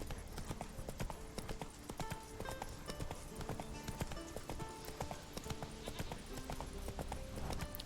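Horse hooves clip-clopping at a steady gallop in The Witcher 3, a dense continuous rhythm of close, loud hoofbeats lasting throughout, with a brief whinny-like touch and game ambience underneath.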